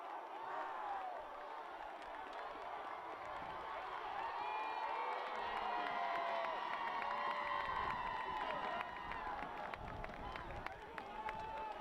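A high school football student section roars and shouts at a night game, a sustained crowd cheer rising in intensity, with an announcer speaking over it.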